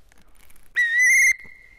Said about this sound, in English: I want her to not be scared of the whistle sound.